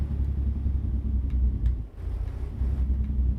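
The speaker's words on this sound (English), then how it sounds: "they improved the engine braking noise for this truck" A low, steady truck engine-braking rumble in a video game drones throughout with a deep throbbing quality, dipping briefly midway before resuming at the same level.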